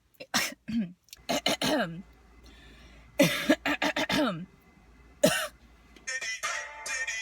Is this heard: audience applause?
no